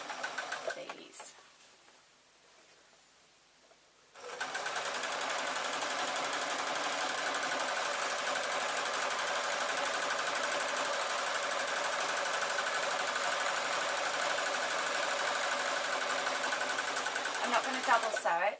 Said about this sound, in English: I'm just going to fold them over the once, and I'm going to sew down these